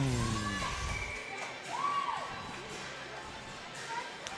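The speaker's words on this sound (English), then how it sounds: "And the Edina fans give the Bronx cheer" Edina hockey fans at an ice rink jeer with a Bronx cheer, a rough crowd roar of boos and shouts that starts loud, dips, then swells again, with voices carrying over the arena noise.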